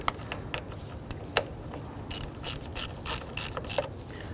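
A ratchet wrench clicking as it gently snugs a terminal nut on a 1994-2004 Ford Mustang 3.8L V6 water pump: short bursts of close, crisp ratcheting, with pauses between strokes.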